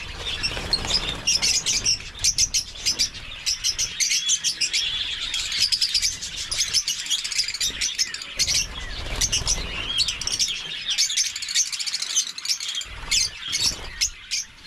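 Backyard birds, kept for laying eggs, chirp and tweet busily and continuously, with many overlapping high calls close by and no talking.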